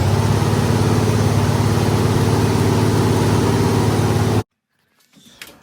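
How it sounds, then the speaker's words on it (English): A 289 engine idles too high, loud and steady with a constant low rumble, then cuts off abruptly, leaving near silence and a few faint clicks. "That's the engine idling too high."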